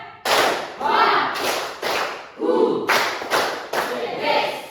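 A classroom of students clap together in a counted rhythm, about eight loud group bursts of claps in a steady pattern with brief gaps between them, no talking over it.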